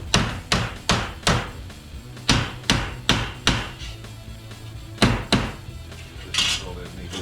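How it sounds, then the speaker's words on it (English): About a dozen sharp, ringing hammer blows flatten metal bolts on the passenger side cab of a 1949 Jeep Willys pickup, struck in uneven bursts with short pauses, close and loud. "I'm gonna hammer these bolt things back flat."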